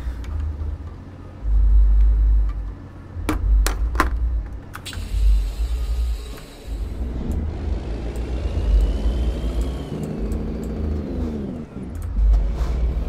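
A Kenworth W900 truck engine in American Truck Simulator, rumbling close and loud with repeated revving surges and a rising, whining pitch as the truck speeds up.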